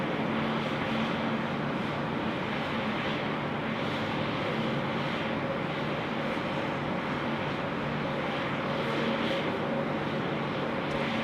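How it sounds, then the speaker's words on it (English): A Jetstar airliner on final approach to runway 34 left at Sydney Airport, a continuous broad engine roar holding steady at moderate distance, with no speech. "Jetstar 62 coming in for finals, 34 left, all the way from Vietnam."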